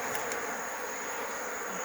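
Honeybees buzz in a steady, dense drone as they hover close around a beekeeper at a hive in Nigeria, with no speech.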